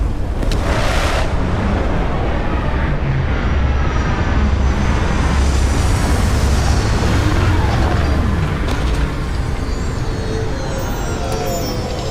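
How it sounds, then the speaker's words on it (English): Spaceship landing in the video game Starfield, a loud continuous engine roar with deep rumble throughout, a whooshing thrust swell early on and steady droning to the end, with no talking. "Landing initiated."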